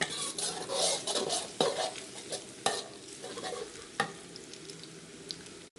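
Garlic stir-fried in a pan over medium-high to high heat, a steady sizzle broken by sharp clanks and scrapes of the spatula against the metal, close and busy with no talk.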